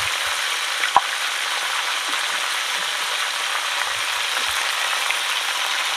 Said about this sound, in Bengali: এবার লবণ হলুদ দিয়ে সুন্দর করে কপিটাকে ভেজে নেব।